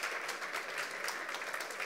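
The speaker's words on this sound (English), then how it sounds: "Let's give them a little bit of applause, shall we, as they go." Congregation applauding as young people leave for their upstairs program, a steady patter of many hands, fairly quiet and distant, with no voices on top.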